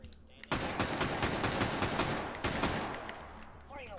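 Rapid automatic gunfire in the VR shooter Hot Dogs, Horseshoes & Hand Grenades, loud and close, a dense burst of shots lasting a few seconds that tails off, with a brief voice at the end.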